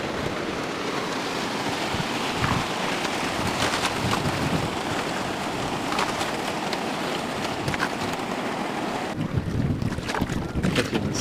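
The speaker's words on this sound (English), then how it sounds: "Now we're riding the waves." An outrigger boat cutting through ocean swells off the Sri Lankan coast near Unawatuna, with a constant roar of wind and rushing water, loud and close, and a sudden drop in the wind noise near the end.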